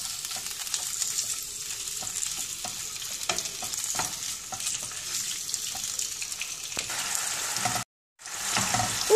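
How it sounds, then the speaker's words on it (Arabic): Cubes of chicken frying in oil in a pan, a steady close sizzle with scattered stirring clicks that briefly cuts out near the end before the hiss returns. "تنديروا الزيت، تنديروا هاد مكعبات ديال الدجاج باش تقلاو"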